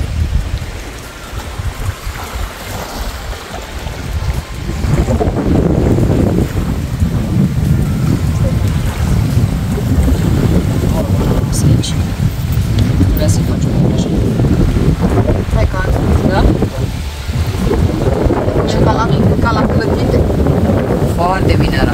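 Strong wind buffets the microphone in a steady, roaring rush at a camp on the Danube at Blasova, with faint voices underneath.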